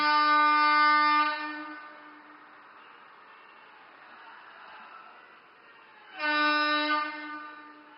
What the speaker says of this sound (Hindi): नई दुल्हन की तरह सजी ये रेल अपनी पहली यात्रा के लिए तैयार है